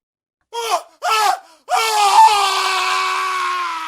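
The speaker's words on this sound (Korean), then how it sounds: "그리고 단 한 번의 비명소리." A single drawn-out scream in a horror story, loud and close, opening with two short rising cries before one sustained shriek that holds and slowly fades.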